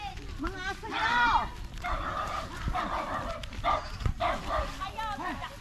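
Several dogs bark and yip in bursts at a family beach vacation in Pideg, Dasol, Pangasinan, moderately close, with people shouting and talking over them.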